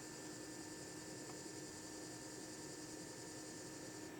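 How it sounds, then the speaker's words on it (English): A small internal cooling fan in a Bluetti AC200P portable power station whirs quietly and steadily, with a faint high tone and a soft mechanical hum throughout. "That is a small fan, internal fan, that comes on every now and then when this thing heats up."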